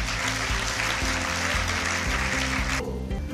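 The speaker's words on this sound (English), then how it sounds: "I think we should get a moment and give them a clap." An audience at a national prefects conference claps steadily for the organizers, a dense wash of hands over a pulsing low musical backing, cutting off sharply just before the end.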